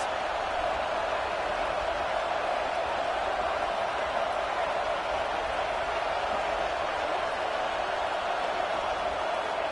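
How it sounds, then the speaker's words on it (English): A steady, continuous roar from a large crowd at a football game against Auburn, dense and unbroken at constant loudness, like a packed stadium. "Listen to this crowd just shaking the girders of this place, trying to help their defense."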